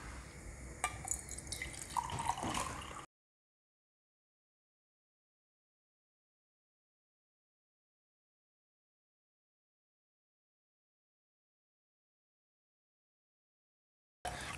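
Two glasses of cold water poured into a cooking pot for raagi muddhe, a brief close splashing and running pour lasting about three seconds before silence.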